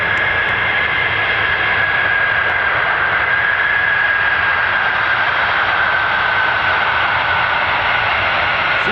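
An F-35 fighter jet roars overhead at RAF Lakenheath, a steady, loud, broadband engine rush with a faint whine that holds throughout without pause.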